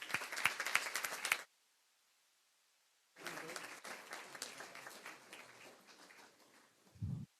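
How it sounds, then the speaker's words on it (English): A board meeting audience applauds its schools, with a short crisp burst of clapping that stops, a pause of silence, then a longer, more scattered round of applause that fades toward the end. "round of applause for all of our schools"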